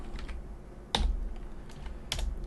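Someone types on a computer keyboard during a coding session, with a few sparse, quiet key clicks and two sharper presses close by in a quiet room, and no talking.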